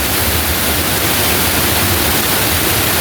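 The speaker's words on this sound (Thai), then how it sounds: "เป็นน้ำตก" A waterfall in Phu Hin Rong Kla National Park in Thailand roars as a loud, steady rush of water that fills the whole clip without any break.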